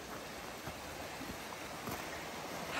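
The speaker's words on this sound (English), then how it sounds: "And then here's our view of the river." River flowing below a steep cliff at a winter campsite in a storm, a faint, steady broadband rush with no voices.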